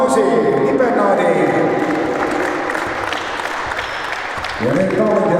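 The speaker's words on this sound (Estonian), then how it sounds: "teeme aplausi" Crowd applause at the awards ceremony of a 40+ basketball league final tournament, a dense steady clapping wash that fills the clip, with a voice speaking over it near the end.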